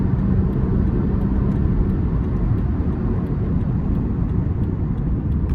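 A 2009 Toyota Prius 1.5-litre four-cylinder hybrid pulls at full throttle, its engine a steady, loud low drone mixed with road and wind noise heard from inside the cabin, unbroken throughout.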